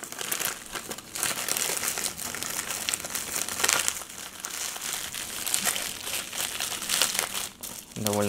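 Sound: opening a packed AliExpress parcel

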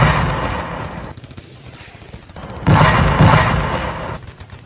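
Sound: machine gun and artillery fire sound effect in radio drama

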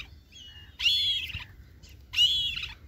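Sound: kite bird screeching

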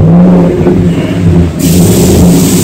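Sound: truck engine cranked and revving

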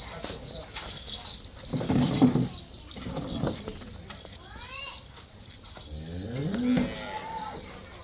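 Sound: cow mooing

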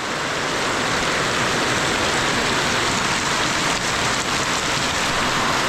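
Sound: rain

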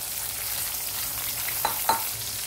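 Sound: potatoes and peas frying in a pan

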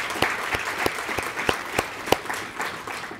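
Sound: applause for conference chairs and volunteers

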